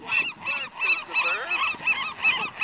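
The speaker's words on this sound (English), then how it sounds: "Yeah, the birds are saying quack, quack." Geese and ducks honk and quack in a dense, repeated chorus at a marina, the calls overlapping loudly and close by with a faint voice briefly underneath.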